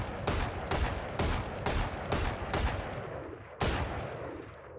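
Repeated gunshots from a weapon in the tactical shooter Valorant, fired in evenly spaced sharp bursts at a 50-meter target, six loud cracks in steady rhythm with a short gap before the last.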